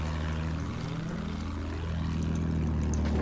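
Propeller airplane engine roaring in the World War I shooter game Battlefield 1, a loud sustained drone with pitch sweeping as the plane passes and maneuvers, no voices.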